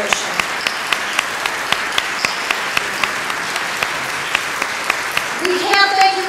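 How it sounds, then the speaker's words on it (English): Applause rings out at a gala honoring World War II veterans, a scattered crowd of clapping spread evenly across the room, with the louder, fuller clapping swelling near the end. "let's give one more round of applause for the heroes of our great generation"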